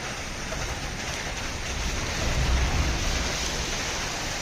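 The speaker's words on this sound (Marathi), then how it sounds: "आता थोडा पाऊस कमी झालाय जोर कमी झालाय पण पाऊस चालूच आहे हे बघा" Monsoon rain falls steadily in Kerala, having eased from a heavy downpour, as a dense, even wash of hiss that swells slightly midway and runs throughout.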